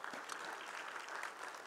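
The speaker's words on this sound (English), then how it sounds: "So let's give him a round of applause," Audience at a civil rights summit giving a round of applause, a steady, fairly faint patter of many hands clapping heard from a distance, with no talk.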